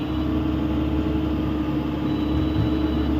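A vehicle engine runs with a steady, loud low drone that holds an even pitch throughout, with no clear rise in revs and no talk.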